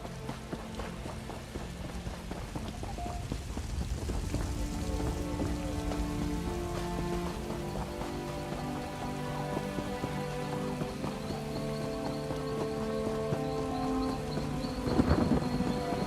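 Steady rain falling on surfaces in the Grahtwood region of The Elder Scrolls Online, a continuous close hiss with rumbling thunder underneath and a few brief melodic tones over it.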